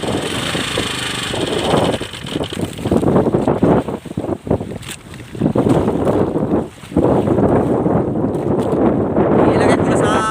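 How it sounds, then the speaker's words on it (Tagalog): Strong amihan wind buffets a fishing boat out at sea, roaring and gusting across the microphone over a low engine rumble, with a brief lull midway before the blustery noise surges back. "Basta lang hangin amihan."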